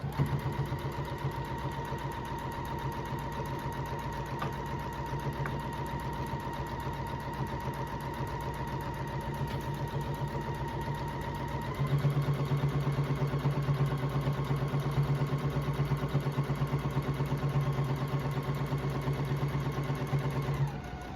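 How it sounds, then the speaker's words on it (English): Sewing machine stitching down the seams of an apron, a steady fast mechanical whir running continuously, shifting to a slightly different, louder pitch about halfway through, close and alone without talk. "So I'm over at the sewing machine and I'm going to sew these seams down."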